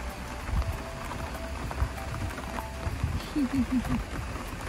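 Steady rain patters on a surface on a deer farm in Florida as a broad hiss throughout, with a few low thumps and faint, indistinct voices in the background.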